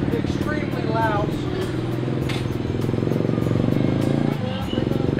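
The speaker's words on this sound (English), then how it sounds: "They call them a motorcycle, but in the States, we would say they're glorified, extremely loud." Loud motorcycles in downtown Cebu traffic in the Philippines: a continuous buzzing engine drone with passing revs and street clatter, heard under close talking voices.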